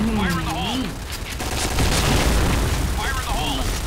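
AUG rifle fire in a shooter video game, a continuous dense burst of shots under excited voices talking over it, fairly loud and sustained through most of the moment.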